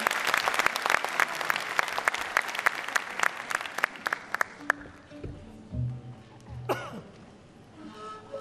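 Audience at a Turkish classical music concert claps in a dense burst of applause that fades after several seconds, leaving a few coughs and throat clearing in the quiet hall.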